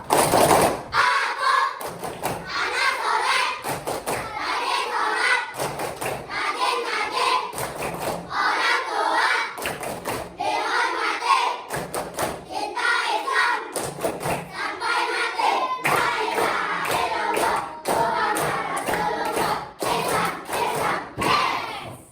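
Children in a classroom perform the rhythmic "tepuk anak soleh" clapping chant, sharp patterned claps in bursts with young voices chanting along between and over them, loud and close throughout.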